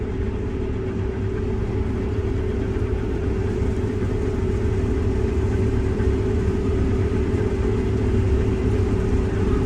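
A combine harvester works through a soybean field, a loud, steady engine drone with a strong constant hum and rattling mechanical texture, heard close from the cab with no talk.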